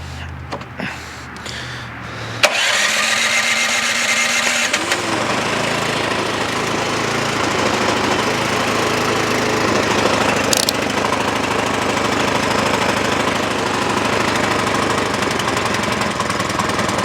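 A small gasoline engine on a snow blower or mower coughs to life after a few quiet knocks, then runs loud and steady at close range with a constant buzzing drone.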